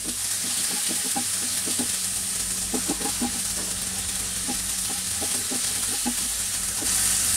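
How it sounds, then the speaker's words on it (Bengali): Shrimp fry in a pan for a Chinese shrimp-and-broccoli dish, giving a steady close hiss and sizzle broken by repeated clinks and scrapes of stirring, with no talk. "খুব বেশি ভাজার দরকার নাই, চিংড়ি মাছ খুব জলদি হয়ে যায়"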